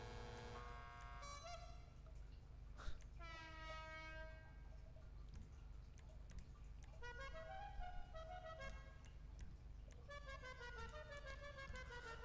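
A motorcycle horn in GTA Online sounds repeatedly as harmonic toots over a steady engine and background drone, in several bursts spread across the stretch.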